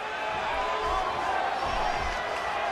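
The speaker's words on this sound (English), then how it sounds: "Would you listen to this crowd show their appreciation for these amazing competitors?" A wrestling arena crowd in the WWE'13 video game roars and cheers continuously, a dense, loud wash of voices holding steady throughout with no individual words.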